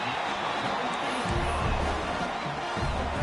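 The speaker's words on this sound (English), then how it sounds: "this crowd is buzzing after that last score" A video game football stadium crowd at a Florida vs Florida State game keeps up a steady buzzing roar, with low thumping rising underneath partway through.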